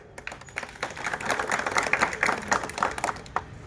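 A crowd at a Hindu organisations' protest rally in Kopargaon claps in a dense, steady burst that swells and then tapers, fairly close and loud with no talk over it.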